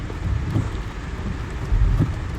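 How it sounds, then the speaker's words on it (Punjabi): Continuous rain with a low rumbling roar, steady and fairly loud, no voices. "ਹਲਕੀ ਬੂੰਦਾਬਾਂਦੀ ਹੋ ਰਹੀ ਹੈ"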